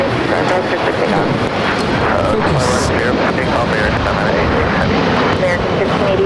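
Air China 988, a heavy jet, takes off at Los Angeles International Airport with a loud, steady, broad engine roar that lasts the whole stretch, while voices talk over it.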